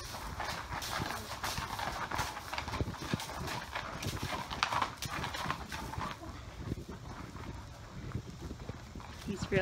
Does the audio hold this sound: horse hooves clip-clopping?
yes